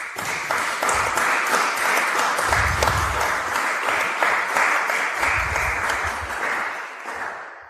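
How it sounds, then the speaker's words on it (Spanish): Warm audience applause welcoming a soprano at a lecture event, a full steady wash of many hands clapping that carries on before fading slightly at the end. "con un caluroso aplauso"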